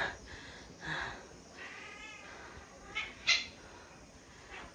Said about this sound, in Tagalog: Dami niyang pusa.